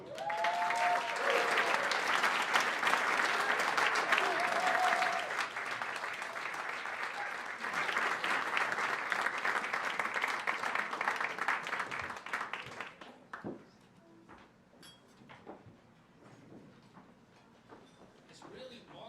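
A concert crowd welcomes a jazz vibraphonist and his band on stage with loud, sustained applause and cheering that carries for about thirteen seconds, then thins to scattered claps.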